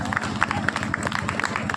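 A crowd at an Agni theertha kavadi festival event in Pappini applauds with a busy, continuous patter of clapping, mixed with crowd noise throughout the short stretch.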